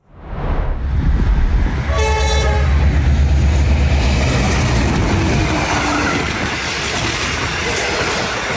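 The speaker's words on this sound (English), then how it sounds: "private standard gauge train hauled by a heritage diesel locomotive" A private standard gauge train hauled by a heritage diesel locomotive rumbles past loudly, sounding its horn in a brief blast near the start, followed by steady rolling train noise and wheel clatter.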